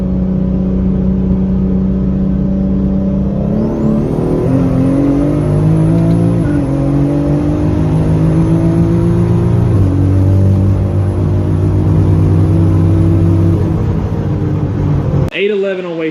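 A 2JZ-swapped BMW E30 with a DCT gearbox runs on a dyno, the engine revving hard and climbing in pitch through successive gear pulls with a high whine above, then cutting off abruptly near the end.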